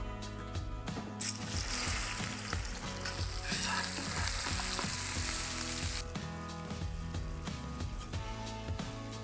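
Potato balls drop into hot oil in a cauldron and erupt in a loud, bubbling sizzle that holds for several seconds before settling back under steady background music.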